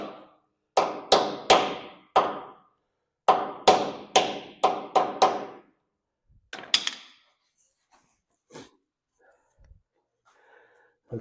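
A hammer taps a Welch plug into place on a 1926 John Deere Model D tractor during differential installation. About eight sharp, close metallic strikes come in two quick bursts, followed by a few fainter knocks.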